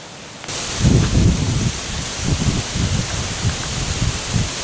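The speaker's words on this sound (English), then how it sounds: "It's super windy" Strong wind gusting and roaring through trees, with rustling leaves that swell and ease in waves.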